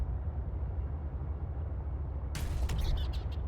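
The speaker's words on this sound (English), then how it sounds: "That was a very satisfying donk noise. Crashing into that fish like that." A sudden crash-like thud with a bright, crackling burst cuts through a steady low rumble of engine noise near the end.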